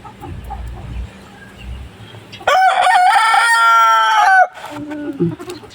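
A silkie rooster lets out one loud, close crow, a long strained cock-a-doodle-doo, after soft low clucking from silkie hens; a few more clucks follow as the crow ends.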